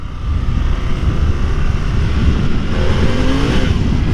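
Harley-Davidson Pan America motorcycle engine under way, a loud, continuous low drone with steady rumble and wind rush throughout, with no voices.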